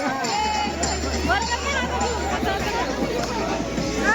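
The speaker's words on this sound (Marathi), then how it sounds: "गाईज पाहू शकता भाविक भक्तांची गर्दी आहे" A dense crowd of devotees at the Ekvira temple, a steady close babble of many overlapping voices and chatter filling the whole stretch without pause.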